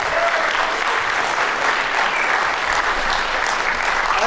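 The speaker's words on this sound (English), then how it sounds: "Let's give a round of applause." A horror film festival audience applauds a guest being introduced, dense steady clapping from a crowd throughout, fairly loud and continuous.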